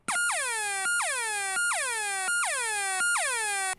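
A bright electronic tone from an unfiltered dub siren circuit repeats five quick falling zaps in a steady rhythm, each one sweeping down sharply. It is loud and clear, with no talking.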